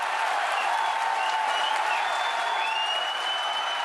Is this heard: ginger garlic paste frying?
no